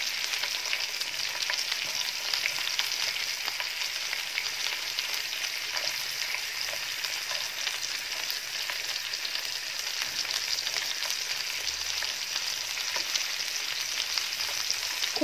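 Meat cutlets frying in a pan and being flipped over, a steady dense sizzle of hot oil running throughout with faint scrapes and clicks as pieces are turned, no voices.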